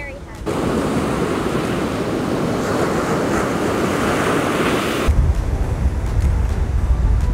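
Ocean waves on rough seas surge and wash against the shore in a loud, continuous roar, with heavy wind buffeting the microphone toward the end.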